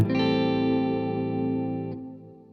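A sustained harmonic chord rings out washed in a shimmering, wavering modulated reverb, then cuts off around two seconds, leaving a slightly detuned tail.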